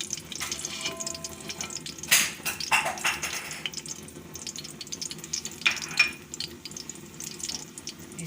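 Ghee sizzling in a cooking pot as cardamom pods go in, a steady crackling fry with a few sharp spits and clinks of a utensil against the pot.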